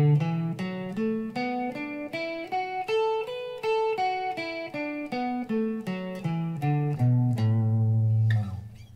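A guitar plays a pentatonic scale one plucked note at a time, climbing steadily and then descending, ending on a longer held low note.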